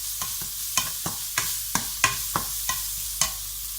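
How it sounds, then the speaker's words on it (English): A spoon scrapes and stirs fat and flour in a pot for chicken pot pie sauce, sharp regular strokes about every third of a second over a soft sizzle, close and clear with no talk. "fat and flour it's mixed together, it's going to create a thickening agent for our sauce."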